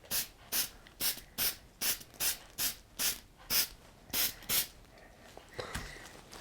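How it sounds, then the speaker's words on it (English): Short hissing bursts from a spray paint can, painting a sign, come in a quick, fairly even rhythm, about a dozen puffs, fairly close, with softer rustling near the end. "So now we're just going to use the spray."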